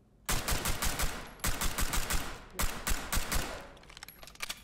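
Rapid-fire gunshots ring out in a video game police raid inside a hallway, loud close bursts of several quick shots separated by brief gaps, with a couple of scattered shots trailing at the end.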